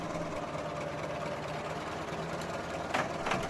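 A 1917 French CBA truck's large 4-cylinder gasoline engine runs at a steady idle with an even mechanical knock, moderately close, ending with a couple of brief sharper bursts.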